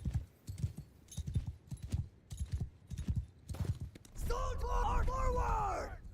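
Horse hooves clip-clop in rhythmic bursts on a Bannerlord battlefield as cavalry moves forward, with shouted orders heard in the first part, then a denser rush of hooves, neighing and battle noise swelling toward the end.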